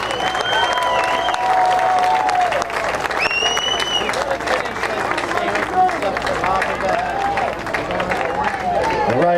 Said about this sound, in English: let's give a round of applause one more time for our armed forces members